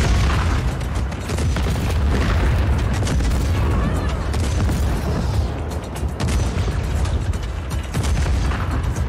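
Loud, dense booms and blasts from cannon fire and explosions in the video game Just Cause 4, rumbling continuously with sharp bursts scattered throughout.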